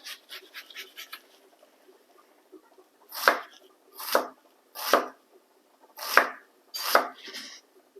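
Knife thinly slicing a large yellow onion on a cutting board, a few quick light taps followed by five distinct, evenly spaced crisp chops, close and clear with no talking.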